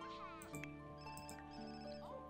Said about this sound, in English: Who's the phone call from?